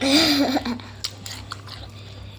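Steamed blue crab with dipping sauce is chewed close to the mic, giving sharp, crunchy bites and a few scattered crunches after a brief voice at the start.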